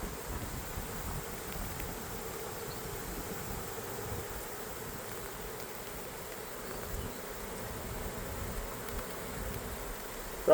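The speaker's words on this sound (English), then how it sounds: "Probably about a 3-pound package of bees, about what you'd order from a bee company." A honey bee swarm of roughly three pounds, gathered during a swarm removal, gives off a steady, dense buzz that hums on evenly throughout, with only faint wind noise and no talking.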